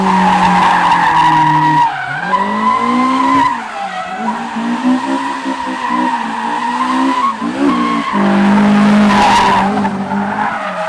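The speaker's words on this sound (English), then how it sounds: "I want to see if it does a donut" A Honda K20-powered drift car spins a donut, its engine howling at high revs while the tires squeal and skid continuously, loud and close, with brief dips as the throttle lifts.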